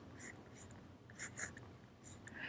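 Marker or chalk scratching on a board while a chemical structure is drawn, a few short scraping strokes in quick bursts, close and fairly faint over a quiet room.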